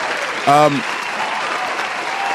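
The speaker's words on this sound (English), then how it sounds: "I want to give a round of applause to Eric Armstead, the Walter Payton Man of the Year for the NFL for this season." A crowd gives a steady round of applause, a dense wash of clapping that lasts throughout, with a brief voice calling out over it near the start.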